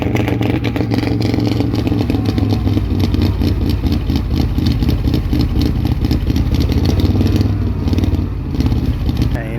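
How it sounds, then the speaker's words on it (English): A high-performance engine runs loudly and steadily at close range, with a rapid rattling pulse and its cooling fan whirring constantly over it. "you can hear the fan over the rest of the engine running"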